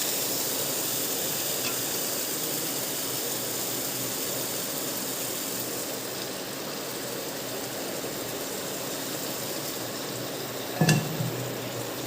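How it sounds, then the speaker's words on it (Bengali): Masala spices sizzling in oil after a splash of water, a steady dense hiss and crackle from a pan of Bengali vegetarian chhanar dalna, with a brief clatter near the end. "তেলটা ছাড়লে সামান্য জল দেবো মশলাটা কষার জন্য।"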